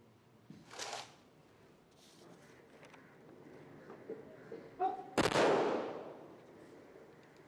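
A military gun salute fires at the state funeral of former Prime Minister Manmohan Singh at Nigambodh Ghat in Delhi, with one loud, sharp report that rolls off, after scattered quieter crowd and outdoor noises.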